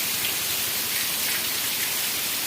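Rain pours down steadily on farm fields during sowing, a dense, even hiss of drops close by with no break and no voices.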